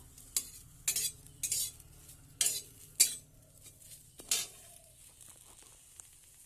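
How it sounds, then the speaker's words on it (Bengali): Utensil scraping and stirring food in a pan as it fries down to black, with a handful of sharp scrapes and clinks over a quiet, low sizzle, close and fairly soft. "আর এটা আমি ভেজে একবারে কালো কুচকুচে করে নেব।"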